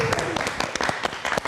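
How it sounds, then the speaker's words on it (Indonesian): A live-show studio audience claps in a dense, steady patter of many hands, close and fairly loud, with a presenter's voice running over it. "ini kita kasih tepuk tangan untuk Aumania"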